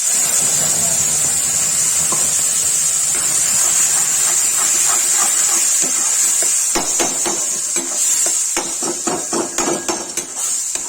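Tomatoes, onion and garlic sizzle in hot oil in a home kitchen pan, a constant bright hiss with a burst of spoon scrapes and taps against the pan toward the end.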